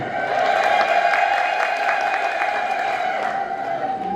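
A church congregation ululates in a sustained high trill while clapping steadily, a dense crowd sound holding for several seconds.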